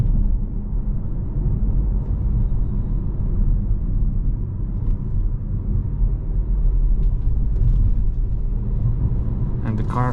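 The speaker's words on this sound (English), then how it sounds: "I quite like the sound of the engine" A Geely Cityray 2026 GF+ Sport with a 174 HP petrol engine, driving at night, gives a steady low engine rumble and road drone from inside the cabin, continuous and fairly loud without change.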